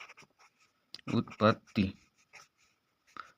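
Short scratchy strokes of writing on a board during a Class 12 physics lecture on Gauss's theorem, faint and brief, mostly masked by a nearby voice speaking.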